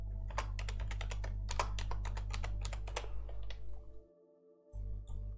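Someone types a password on a computer keyboard with quick, close, crisp keystrokes in irregular rhythm for about three seconds. Background hum continues afterward.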